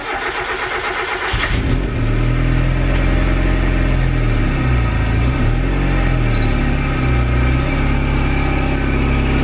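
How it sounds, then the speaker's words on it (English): A Mazda MX-5 Miata, first-generation NA, starts up and runs close by, its engine catching after a short crank and then settling into a loud, steady idle with slight revs as it is driven into a garage. "So I'm gonna bring the car into the garage,"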